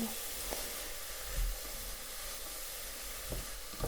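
Chopped vegetables, including carrots and mushrooms, sweat for lasagna in a pan, giving a steady soft sizzle and hiss throughout with a few brief stirring knocks, close and alone.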